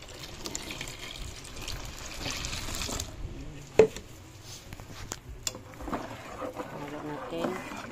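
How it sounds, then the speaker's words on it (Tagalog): Water poured into green avocado ice candy powder mix, a low, steady liquid wash running under ongoing background noise with a brief sharp knock partway through. "Lagyan natin siya guys ng tubig."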